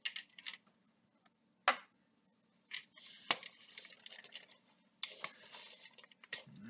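A spoon works through banana bread batter with chocolate and walnuts in a bowl, giving sparse, quiet scrapes and sharp clinks against the bowl with soft wet squishes between them and no talking.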